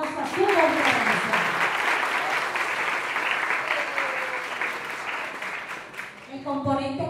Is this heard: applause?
yes